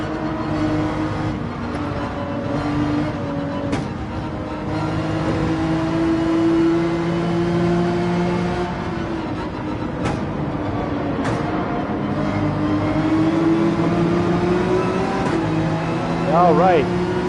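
A race car circles the Nürburgring in Gran Turismo 7, its engine droning and rising and falling in pitch as it revs and eases off the throttle, held under continuous talking from a nearby voice throughout.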